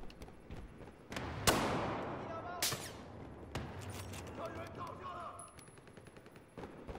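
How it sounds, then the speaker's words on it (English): Gunfire in a video game: several sharp, loud shots and short bursts at irregular intervals, some echoing, with quieter shots in between and background game noise. "Who's shooting at me?"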